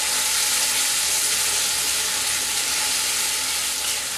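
Tomato masala for shahi paneer sautés in a pan with a loud, dense, continuous sizzle and frying hiss that holds steady throughout.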